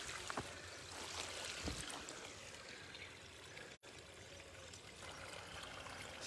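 A mountain stream flows steadily on a foggy morning, with broadband rushing and trickling water sounding close and continuous, briefly cut off once.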